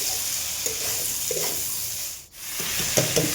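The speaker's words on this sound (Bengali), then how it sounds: "এবার দিয়ে দেবো বেগুনগুলো। এবার এটাকে ভালো করে একটু ভেজে নেব।" Eggplant frying in a pan with salt and turmeric, a steady sizzle stirred with soft scraping strokes, briefly interrupted by a short dip before the hiss returns.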